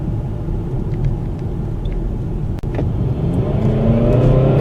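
A 2016 Kia Optima SX with a turbocharged engine accelerating, a steady low engine rumble and whir from inside the car that swells gradually toward the end, with no talking.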